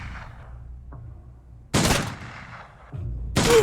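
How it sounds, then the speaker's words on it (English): Gunfire in the tactical video game Urban Strife, heard as a sharp synthetic shot followed by a louder burst and another report at the end, close and punchy with no talk. "And I will shoot him."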